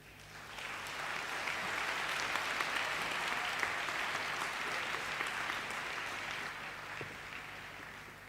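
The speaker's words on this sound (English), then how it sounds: "Clapping is now in order." Audience applause at a model UN opening ceremony swells quickly from quiet, then holds as a dense, even wash of clapping from a large crowd for several seconds before easing slightly toward the end.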